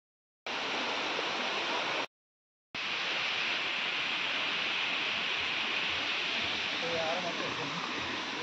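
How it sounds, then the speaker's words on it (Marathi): A waterfall in the Konkan hills near Sangameshwar roars as a dense, steady rush of falling water, loud and unbroken apart from a short silent cut early on. "आणि धबधब्याचा आवाज येतो आपल्याला"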